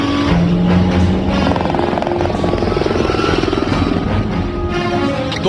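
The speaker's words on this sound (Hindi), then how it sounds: "वो हेलीकॉप्टर से आ रहे हैं।" In a dubbed Hollywood action chase, a helicopter approaches as a movie sound effect, its rotor thudding in a loud, fast, pulsing throb under a steady engine roar that swells and fills the scene, with no talk over it.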